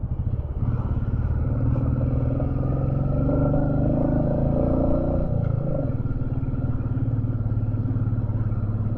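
A Royal Enfield Meteor 350 motorcycle climbs a steep ghat road in South India, its single-cylinder thump steady and close, with a gear change and a dip in engine pitch around the middle before it pulls on again.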